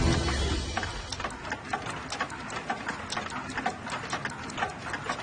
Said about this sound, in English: Welcome to the clock room.